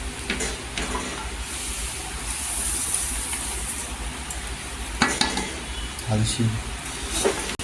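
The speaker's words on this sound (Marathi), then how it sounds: "टाकायचं आणि मिक्स करायचं, कारण गूळ आहे ना लवकर मेल्ट होतो, तर हलवत राहायचं." Dates, jaggery, white oil and dry fruit are stirred together in a pan for homemade ladoos as the jaggery melts, giving a continuous scraping stir over a soft sizzle with occasional clinks of the spoon against the pan.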